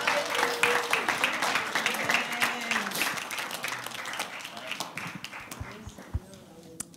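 A church congregation applauding during a worship service, a steady patter of many hands clapping at moderate distance that slowly fades, with a voice speaking over it.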